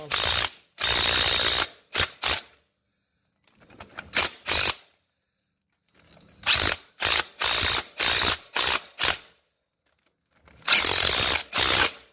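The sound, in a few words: tightening nuts during LS1 engine swap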